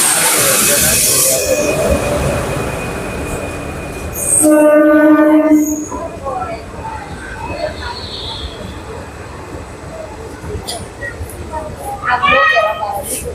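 A train rumbles nearby at a railway station in Gujarat, with two loud horn blasts partway through and near the end, over background chatter.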